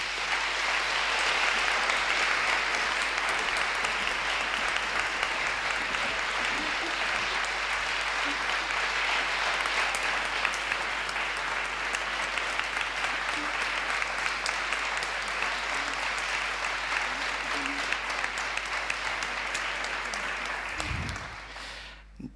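Long, even applause from a concert audience follows the introduction of a women's vocal quartet, a thick continuous patter that holds steady for about twenty seconds before stopping abruptly.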